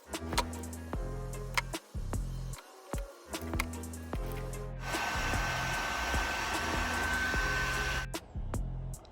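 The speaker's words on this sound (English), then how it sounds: "All right, fuel pump is on." A Walbro 525lph fuel pump in a Honda Accord, a steady electric whine and hum running for a few seconds amid intermittent clicks and mechanical clunks, close up, no talking.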